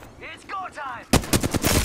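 Rapid bursts of video game gunfire crackle loudly in quick succession, coming in after a short electronic chirping tone.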